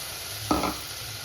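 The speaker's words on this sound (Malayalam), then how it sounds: "ഇതിൻ്റെ അകത്തോട്ട് നമ്മൾ അരച്ച് വെച്ചിരിക്കുന്ന അരപ്പില്ലേ അത് ഒഴിച്ചു കൊടുത്താണേ" Ground masala paste is poured into a hot pan for omelette curry, giving a short wet splash and sizzle about a second long, close up, over quiet kitchen background.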